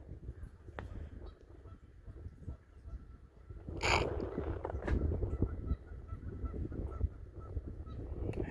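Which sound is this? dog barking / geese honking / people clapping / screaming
geese honking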